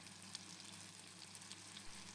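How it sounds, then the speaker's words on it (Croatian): Meatballs of minced meat mixed with blended black radish, carrot, parsley and spices frying in a pan, giving a faint, steady sizzle with light crackles and no talking. "dodali mljeveno meso i začine i pržimo ćufte"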